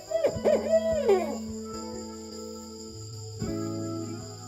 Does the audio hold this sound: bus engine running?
no